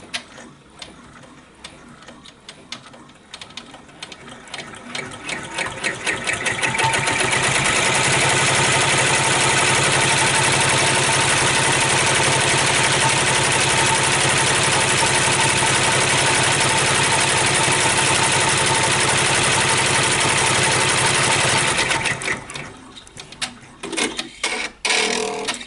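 An embroidery machine stitches a tack-down on fabric held in a hoop for an in-the-hoop tooth fairy pillow, a long, steady mechanical whir that rises and then winds down.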